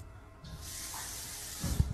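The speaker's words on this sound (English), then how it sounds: "Somebody playing with the faucet." Water runs from a faucet in a steady hiss that starts abruptly and continues, fairly faint, with a few low knocks near the end and no voices.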